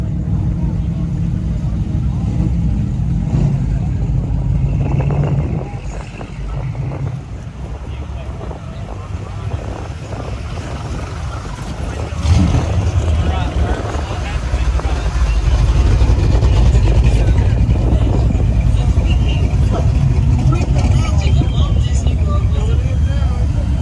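A line of classic cars rolls into the Pharaohs Spring Dust Off car show in Franklin, North Carolina, a steady low engine rumble that swells louder near the end, with people talking over it.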